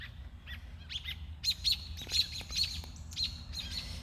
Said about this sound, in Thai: ได้ยินเสียงนกไหมน่ะน่ะ